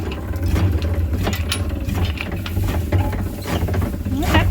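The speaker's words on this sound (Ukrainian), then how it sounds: "Я бачив такий агрегат. Січкарня називається." A hand-operated chaff cutter runs steadily with continuous ratcheting, clattering gear and blade noise and a low rhythmic mechanical hum, close and fairly loud, with no talk.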